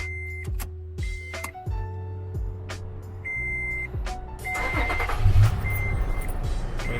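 A 2015 Toyota FJ Cruiser started from inside the cabin: repeated electronic chimes and beeps over a low idle rumble, with a louder burst as the engine catches and keeps running.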